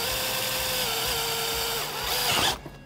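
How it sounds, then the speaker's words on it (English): A power drill bores out the dimple locations on a 2018-2021 Jeep JL tailgate panel, whining loud and steady for over two seconds before spinning down. "we're gonna go ahead and drill these out"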